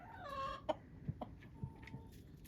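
Backyard chickens in a flock that includes several roosters, with a few short clucks and one drawn-out vocal call at the start, quiet and close, over a low background hum and no speech.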